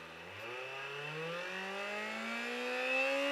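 A small-displacement diesel car engine revs up steadily, its droning pitch climbing smoothly over a few seconds without stumbling, close and moderately loud with no voices.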